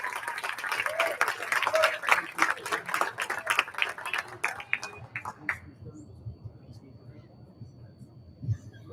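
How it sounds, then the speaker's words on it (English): Audience applause at a bowling awards show in Las Vegas, a dense burst of clapping that fades out after several seconds, followed by quiet murmuring. "Let's hear another round of applause for Kirsten"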